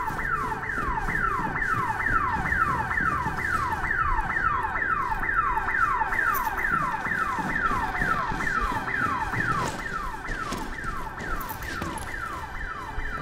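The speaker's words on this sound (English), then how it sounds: "Can't find where their alarm is." An alarm blares in the video game Bugfall, a loud, steady electronic whooping tone that sweeps down again and again at a fast even pace and holds throughout with no talking.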